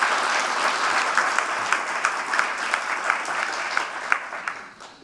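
An audience at a World Wildlife Day 2023 conservation event gives a speaker a round of applause. The dense clapping is steady and close, with sharper individual claps standing out as it begins to thin toward the end.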